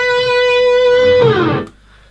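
A solo electric guitar plays a lead break from an album, in standard tuning: a sustained bent note that slides downward, then a quick flurry before cutting off, loud and close with no talk.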